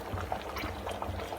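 Dissolved lamb brain mixture goes into a pot of boiling lamb head curry, a close, steady wet bubbling and gurgle of liquid with no one speaking.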